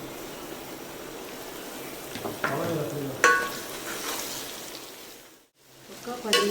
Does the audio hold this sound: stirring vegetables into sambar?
yes